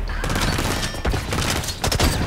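Gunfire and a booming grenade blast in the first-person shooter Blacklight Retribution, set in a free-for-all match: a dense, loud clatter of shots with sharp bursts about midway and near the end.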